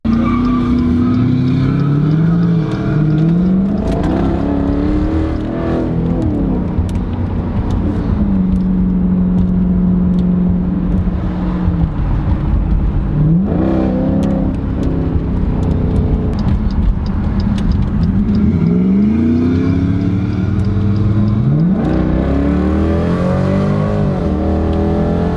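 Ram 1500 pickup truck exhaust revving loudly and repeatedly, the engine note swelling up and dropping back several times in sustained, throaty pulls with no talk.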